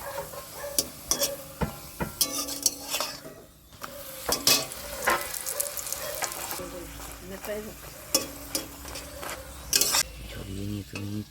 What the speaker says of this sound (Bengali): ভেজে নিচ্ছি আমের পরি